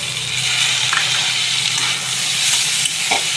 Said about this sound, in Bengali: এবারে দিয়ে দেবো চেরা কাঁচা লঙ্কা, আর দিয়ে দেবো কেটে রাখা টমেটো